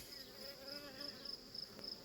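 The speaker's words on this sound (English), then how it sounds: "we got a lot of bees on this one" A dense, steady hum of many honey bees buzzing close by on a hive frame, with a faint high whine running through it and no speech.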